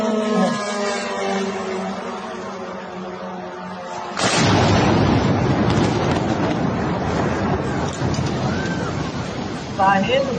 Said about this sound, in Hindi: इसी से जो विस्फोट हुआ है